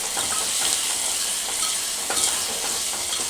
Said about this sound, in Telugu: కరివేపాకు కొంచెం పుదీనా ఈ పచ్చి వాసన అయ్యే వరకు మంచిగా ఫ్రై చేసుకోవాలి